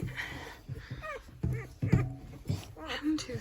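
Six-day-old Dalmatian puppies whimper and yip in short, high, squeaky bursts close by, scattered over a soft background of shuffling and faint talk.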